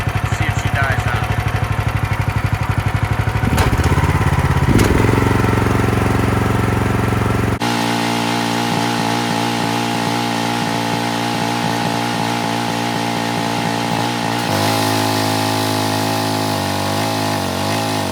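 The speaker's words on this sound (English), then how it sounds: "the kill switch doesn't actually kill the motor" A Brute pressure washer's small engine keeps running after its fuel is shut off, a loud, steady close-up drone whose pitch shifts partway through and then holds constant for the rest.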